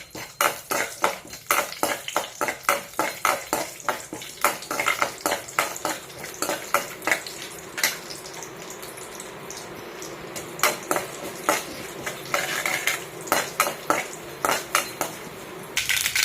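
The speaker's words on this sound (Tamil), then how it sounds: "கடுகு நல்லா பொரியட்டும்." Mustard seeds and split chana dal crackling and popping in hot oil in a kadai while making spinach rice, with a dense run of sharp, close pops and the occasional clink of a metal spoon, and no voices.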